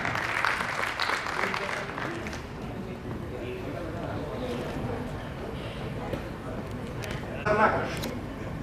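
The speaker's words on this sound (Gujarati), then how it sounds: "જોરદાર તાળીઓ સાથે આવકારીએ છીએ" A crowd claps steadily for several seconds, a dense wash of applause that swells slightly near the end, with a voice faintly underneath.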